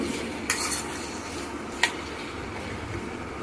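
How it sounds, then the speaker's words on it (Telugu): Tomato, onion, ripe green chilli, tamarind and garlic fry in oil with a soft steady sizzle, broken by two sharp clinks of a utensil against the pan, near and without voices. "ఈ టమోటా ముక్కలు, ఆనియన్ ముక్కలు, ఈ బాగా పండిపోయిన పచ్చిమిర్చి, కొంచెం చింతపండు, కొంచెం వెల్లుల్లిపాయలు వేసి బాగా ఫ్రై చేసుకోండి."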